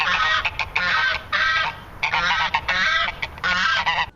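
A goose in Untitled Goose Game honks repeatedly in loud, nasal bursts, several harsh calls in quick succession with short gaps between.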